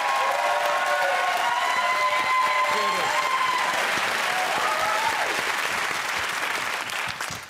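A studio audience on a comedy panel quiz show applauds in a dense, sustained wash of clapping that holds steady for several seconds before tapering slightly at the end.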